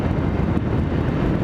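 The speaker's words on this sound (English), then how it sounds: "Excuse the wind. It is windy today." Wind buffets a microphone outdoors on a windy day, a continuous low rumbling roar with no pauses over the whole short stretch.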